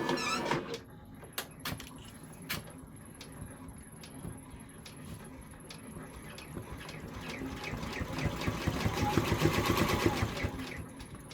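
An embroidery sewing machine stitches a snowflake design for a Christmas tiling scene, giving a steady, rhythmic mechanical patter that carries on without pause and grows somewhat louder toward the end.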